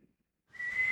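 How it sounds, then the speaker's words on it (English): A person whistles a single sustained, thin, faint note from partway through, a poor attempt at taps, after a moment of near silence. "he's trying his hardest to poorly whistle what I think is taps"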